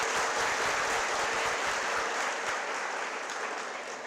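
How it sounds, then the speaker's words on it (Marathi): Sustained applause from a large audience at a Marathi public talk on Shivaji Maharaj, dense steady clapping throughout that fades slightly toward the end, with no voices. "टाळ्या वाजवल्या तर मनापासून वाजवा"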